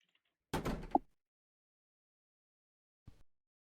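A door being handled in a horror video game, heard as a loud rattling bump followed after a pause by a short, fainter knock, with no talking.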